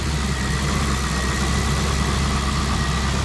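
A Ferrari-inspired Maserati coupe's 4.2-liter V8 idles with a loud, constant, close-up rumble and no voices, holding a steady, even tone for a few seconds.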